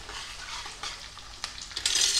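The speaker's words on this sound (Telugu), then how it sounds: "ఒకసారి కలుపుకుందాం" Thin-sliced potato curry frying in a pan and being stirred, a steady hiss with scraping spoon strokes, a few sharper clinks and a louder burst of sizzle near the end.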